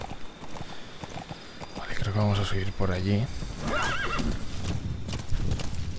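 A horse in Metal Gear Solid V: The Phantom Pain clip-clops along at a walk and lets out two loud neighs mid-way, while someone talks over the game sounds.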